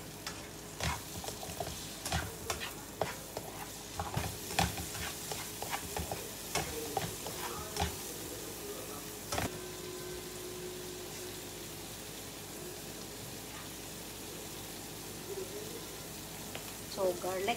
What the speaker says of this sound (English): I cook the onion guys until brown, and then I put garlic